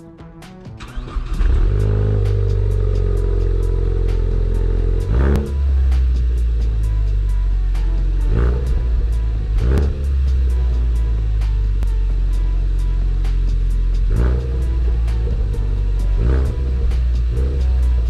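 A Ford Focus ST with a resonator delete starts up and settles into a deep, loud exhaust rumble, broken by several sharp revs spaced a few seconds apart.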